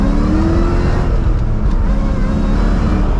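A 500 hp Ford Mustang Terminator with a manual gearbox accelerates hard, its engine roaring loud and close as the pitch climbs steadily, with no talk over it.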